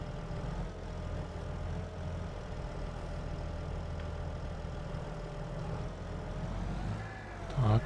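Tractor fitted with a front loader working pallets in Farming Simulator 22, its engine holding a steady low idle-like drone throughout, with a brief louder bump near the end.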